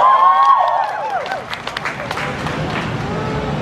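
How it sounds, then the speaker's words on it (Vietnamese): Crowd applause and scattered clapping at an outdoor Subaru car stunt show, with loud engine or tyre sounds fading at the start before steady clapping and crowd noise continue under an announcer's voice. "Vỗ tay lên đây em ơi."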